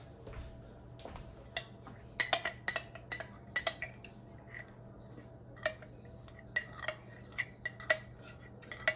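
A metal spoon scrapes and clinks against a container while digging out the last of some coconut cream, giving sharp irregular taps and scrapes, close and fairly loud, in clusters over quiet kitchen background.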